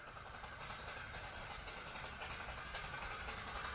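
A British Railways Standard class steam locomotive runs steadily, producing a continuous, fairly faint rumble and rolling clatter with no distinct beats standing out.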